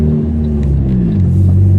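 Turbocharged Subaru engine idling and revving while parked, a heavy, close low rumble that swells and deepens steadily with no talking.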